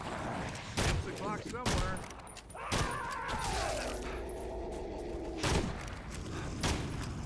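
Gunfire in the Evil Dead game as a deadite is shot, with several sharp loud shots spaced across the clip, mixed with warbling game effects and a player's voice talking over it.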